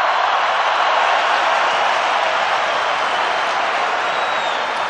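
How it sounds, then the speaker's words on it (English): A large cricket stadium crowd at an Australia versus South Africa match roars and cheers in a steady, dense wash of noise that holds without a break. "Listen to the crowd."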